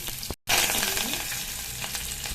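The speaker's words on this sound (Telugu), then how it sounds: "వామ్ వేస్తున్నానండి, ఎండుమిర్చి వెల్లుల్లి వేస్తున్నానండి" Ajwain, dried red chillies and garlic fry in hot oil in a pan, giving a close, steady crackling sizzle that cuts out briefly, then resumes loudly for the rest of the stretch.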